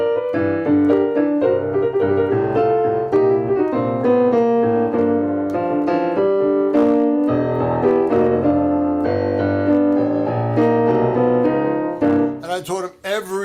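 Piano playing blues in C or G, a full, busy and loud performance of rolling chords and runs that fills the whole passage.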